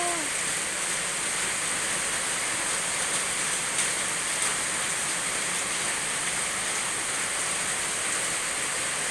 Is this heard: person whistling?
no